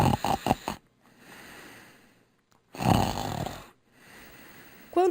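A person snores in loud, rasping breaths, with a short burst of snorting sounds, two long throaty snores and quiet pauses between them.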